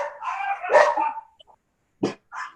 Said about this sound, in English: Sorry, the dogs are going crazy.